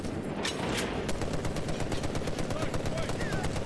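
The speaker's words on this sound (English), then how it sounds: "Yo, I'm just shooting through any kind of cover you think you have." Rapid automatic gunfire from the video game Medal of Honor Warfighter, a dense stream of sharp, evenly spaced shots filling the whole stretch with heavy low rumble, close and loud.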